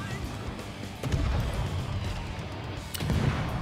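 Warship guns in World of Warships firing in heavy booming salvos, two loud thuds about two seconds apart over a constant roaring sea-and-engine background.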